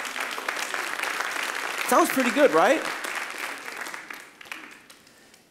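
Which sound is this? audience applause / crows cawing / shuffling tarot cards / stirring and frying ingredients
audience applause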